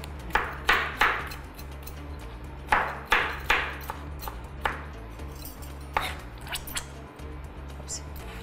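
A knife chops Egyptian tomatoes into small pieces for a salad, making sharp, crisp strikes in short bursts of two or three with brief pauses, fairly close and moderately loud over a steady low hum.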